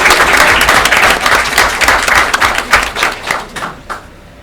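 An audience at a borough council meeting bursts into loud, dense clapping that fades over a few seconds into a handful of separate claps, close and without talking.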